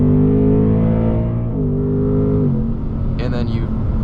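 A 2024 Ford Mustang GT Premium engine drones steadily while driving, its pitch shifting slightly as it climbs and settles, loud and close throughout.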